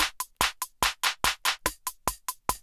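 Logic's metronome click track sounds alone as a steady series of sharp, dry clicks, about five per second, evenly spaced with a slightly accented pitched tick on some beats.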